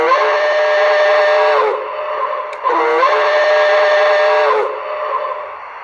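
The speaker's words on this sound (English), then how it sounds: "The horn." Steam locomotive whistle from a Maxx Traxx Small Steam 604 digital sound unit, two long loud blasts with a brief gap between, chordal and close, heard alone without speech.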